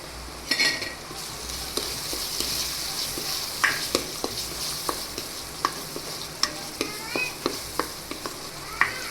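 Chopped onion and tomato cook in a pan for a Gujarati vegetable dish, a low steady sizzle broken by repeated light scrapes and taps of a spoon as the mixture is stirred, close up with no talking.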